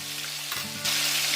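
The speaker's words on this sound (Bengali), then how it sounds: "এবার এটা রেখে দিয়ে মাছটা ভাজবো।" Pomfret fish frying in a pan on the gas, a loud continuous sizzle close up that swells sharply partway through, with brief spatula scrapes and no voices.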